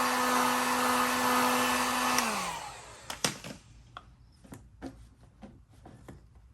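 A heat gun blows steadily on a carbon fibre bumper vent to soften its resin for a 350Z, a loud airy whir that winds down after about two seconds, followed by several sharp handling knocks and taps.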